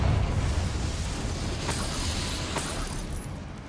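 Bombarda and Confringo spell blasts in Hogwarts Legacy, a low booming burst at the start fading into rumble, followed by two sharp crackling impacts in quick succession, fairly loud and without talk.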